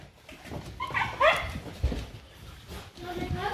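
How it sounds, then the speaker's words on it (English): Terrier dogs working a rat hunt during pest control whine and give short yips and barks up close, mixed with a voice talking over them. "my boy dog's marking, boys, isn't he?"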